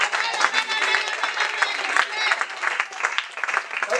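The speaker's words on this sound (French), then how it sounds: "Et les acclamations pour vous." A congregation at a church service applauds and cheers, a thick, continuous mix of clapping and raised voices that swells and dips without a break.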